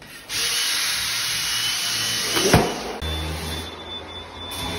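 A power drill whirs loudly and steadily for a few seconds, nearby, then its pitch shifts and it winds down into a lower hum; no talking over it.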